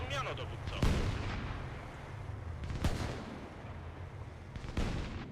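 Mortar artillery fire in the video game Halo Wars 2 during a live showmatch: three heavy booming blasts about two seconds apart over a continuous rumbling battle background, loud and close.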